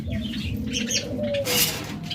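Caged birds offered for sale, such as lovebirds, budgerigars, Java sparrows and cockatiels, give soft coos and bright chirps close by, with thin whistled notes rising over a steady busy chatter.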